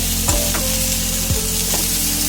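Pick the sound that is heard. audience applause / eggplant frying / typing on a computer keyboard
eggplant frying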